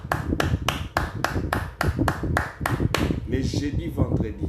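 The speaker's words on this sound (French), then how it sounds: "j'applaudis pour Dieu" A preacher claps in praise during a live French-language religious broadcast: roughly ten sharp, evenly spaced claps close to the mic in the first three seconds, followed by speech.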